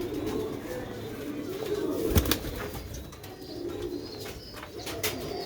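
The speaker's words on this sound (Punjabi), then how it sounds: "ਕੁਆਲਿਟੀ ਵਾਲੇ ਕਬੂਤਰਾਂ ਦਾ ਸ਼ੌਕ ਰਿਹਾ ਸਿਆਲਕੋਟੀ ਛੱਤ ਵਾਲੇ" Sialkoti rooftop breeder pigeons coo steadily in soft, repeated low calls, with a brief flutter partway through and no talk over them.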